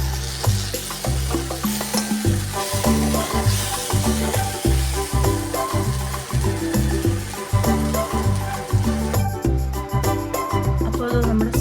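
Papaya mezhukkupuratti stir-fry cooking in a covered pan, a steady close sizzle and crackle of frying running throughout, with a low continuous hum underneath.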